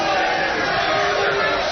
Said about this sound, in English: Listen, they're booing before they even know.